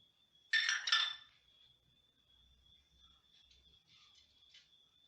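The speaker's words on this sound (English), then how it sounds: "Stir it well." A utensil clinks sharply against the pan a couple of times while fish curry is stirred, followed by quieter, scattered scraping and light taps.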